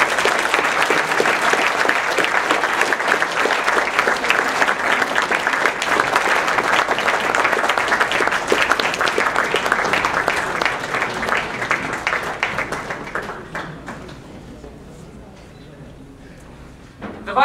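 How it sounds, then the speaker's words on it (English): A large audience at a student association welcome event applauds with dense, loud, sustained clapping that holds steady and then tapers off to a quiet room, with voices murmuring underneath. "I would like you to applaud them thankfully"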